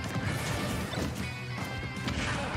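A grenade goes off in a competitive video game match as a dense, crashing burst that fills the whole short clip, loud and continuous, over busy game audio.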